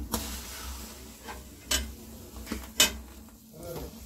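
Peeled tomatoes sizzle softly in a hot pan in a home kitchen, with a steady low frying hiss broken by a few sharp utensil clinks and stirring scrapes.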